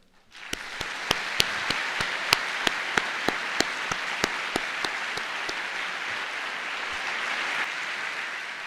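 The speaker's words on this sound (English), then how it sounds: "I think they deserve a big thank you and a big applause." A graduation ceremony audience breaks into sustained, dense applause after a short silence, steady clapping filling the hall with a few sharp, close individual claps standing out over the crowd.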